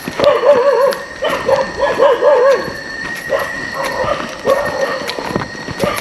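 A dog barks repeatedly in quick rhythmic bursts nearby, with short pauses between volleys and some background noise.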